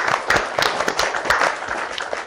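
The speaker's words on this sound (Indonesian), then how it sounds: "Aplaus dong untuk UMRI" Audience applause for UMRI at a campus talk show, a dense burst of many hands clapping at close range, steady and lively for a couple of seconds with no talk over it.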